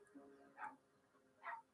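Two short, high-pitched dog yelps from a TV episode, about a second apart, at moderate level over a quiet background.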